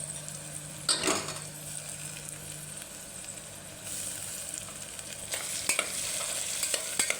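Chopped tomatoes fry in a pan of cowpea curry, a steady sizzle running throughout with occasional scrapes and clinks of a stirring utensil, closer and louder toward the end.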